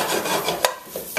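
Beef ribs and tomato are stirred in a pan, giving close scraping and rubbing strokes with a couple of sharper utensil scrapes against the pan.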